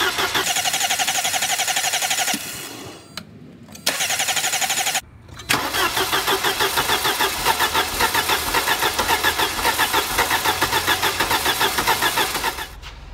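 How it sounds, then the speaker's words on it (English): A Mercedes 190E engine cranking with a steady rhythmic starter whir, pausing twice, then catching and running with a pulsing, uneven idle, loud and close with no talk. "Let's go give this a crank."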